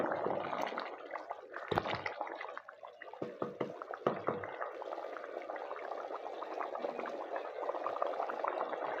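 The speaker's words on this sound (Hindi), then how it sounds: "चावल देखिए अच्छे से पकने लग गया" Rice simmers in salted water for a degi-style beef white pulao, giving a steady, close, crackling bubble that runs throughout with a few sharper pops and sputters near the start.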